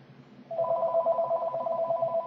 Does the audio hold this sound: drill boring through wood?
no